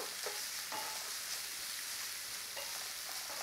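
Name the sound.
diced onion sizzling and being stirred in a pan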